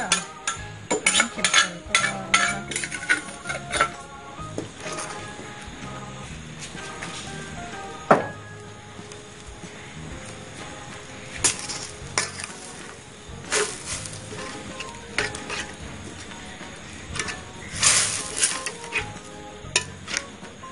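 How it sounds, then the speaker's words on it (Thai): Coconut milk fried and stirred in a pan while cooking an Isan spicy pork lung curry: a steady soft sizzle under repeated scraping and clinking of a utensil against the pan, busier at first, then calmer with occasional sharp knocks. "เจียวกะทิไปให้พี่น้องนะ"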